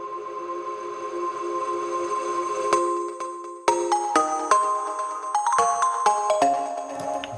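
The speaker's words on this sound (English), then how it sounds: "I just put a shitload of reverb on it, then I export it and then I reverse it." A synth melody drenched in reversed reverb, built in Logic Pro X, swells up into each note before breaking into a sequence of bright, sharp-edged tones that ring on in a fairly quiet, sustained line.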